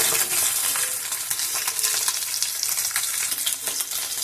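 Fish fry in hot oil, a dense steady sizzle with crackling pops continuing throughout, close and without speech.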